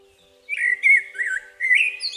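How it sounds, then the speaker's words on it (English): A blackbird sings a short, clear, fluting phrase of several warbling whistled notes in two bursts with a brief pause between, fairly close against a quiet background. "blackbird and the song thrush are quite similar, but the blackbirds are less repetitive"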